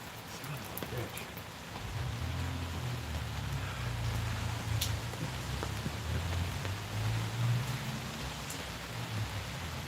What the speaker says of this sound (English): Blackbird, you should close that door because the rain is going to destroy that door.